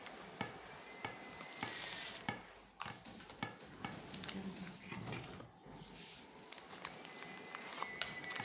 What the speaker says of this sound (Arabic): صافي تخلط الخليط مزيان البيض والسكر والزيت